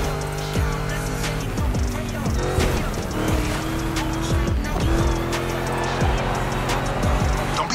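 Monster truck racing in The Crew Motorfest, a game with a Ford Mustang theme: loud, steady engine roar with revving pitch sweeps and tire squeals throughout, close and continuous, with faint voices in the background.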